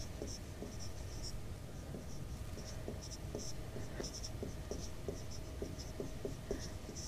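Steady writing on a board during a Class 10 science lesson on electric current, with repeated short scratchy strokes and taps at a moderate, even level that continue for the whole stretch.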